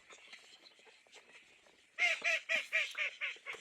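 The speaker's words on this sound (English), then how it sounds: "primarily all you're hearing there are the drakes, and they're pretty quiet" Homestead drake ducks call in a run of soft, rhythmic honking quacks, faint at first and then about six louder evenly spaced calls close by, with no talk over them.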